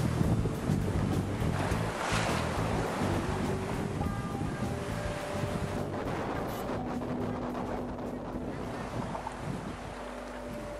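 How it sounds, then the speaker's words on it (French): Steady strong northwest wind over 20 knots roars over open sea off the Brazilian coast, with waves washing and a continuous rushing hiss throughout. "plus de 20 nœuds de vent de nord-ouest"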